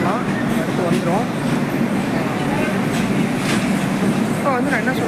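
The West Coast Express train pulls out of a station in India, its loud, continuous rumble carrying faint rhythmic clacks beneath it while a person talks over the noise.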